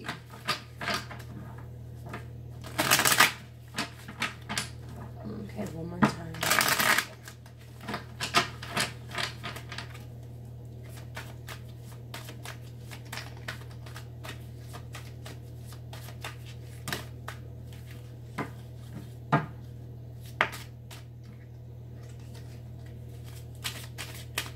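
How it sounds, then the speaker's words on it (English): A deck of cards is riffled loudly twice, followed by a long stretch of quieter, irregular card handling and tapping over a steady low hum. "let me shuffle a couple more times and then we'll go ahead and pull the spread."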